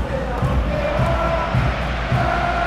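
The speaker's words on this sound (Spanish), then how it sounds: "Bajan los aplausos." A football stadium crowd at a Chile versus Argentina match applauds and roars in a steady, dense wash of noise, with a commentator's voice running underneath.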